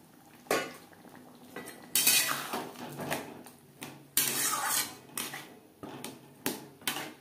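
A spoon scrapes and clatters against a pan as potatoes are stirred into masala for a Bengali fish curry. The metal knocks and scrapes come in irregular bursts, fairly close, with no talking.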